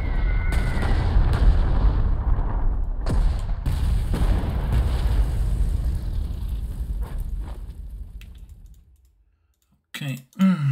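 Artillery fire in the strategy game Panzer Corps 2 sounds as a string of heavy booms and sharp cracks over a deep rumble that gradually fades to silence, then a brief burst of clicks closes it.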